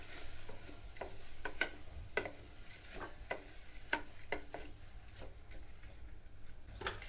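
Lentils being stirred in hot oil in a pan, with a steady run of spoon scrapes and clicks over a soft sizzle, close and moderately loud, with no voices.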